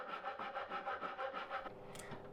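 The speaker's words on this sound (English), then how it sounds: "Then I can use a Japanese pull saw to finish the cut." Japanese pull saw cutting a riving knife slot in wood on a Multico A1 table saw, about seven quick rhythmic rasping strokes, close and loud, then stopping.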